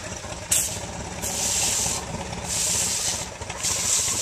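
A garden sprayer is pumped to build pressure, with steady rhythmic strokes giving a rough rubbing, hissing whoosh that repeats about every second, close and fairly loud.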